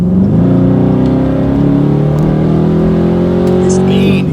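A deep, rumbling Mopar Hemi V8 exhaust with long-tube headers drones steadily and loudly at cruising speed, around 50 mph, with a low throbbing tone throughout.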